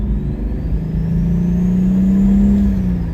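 A turbocharged BMW E46 driving, its engine a loud close steady drone with a rising turbo whine that climbs and then eases off, heard on its own without talk.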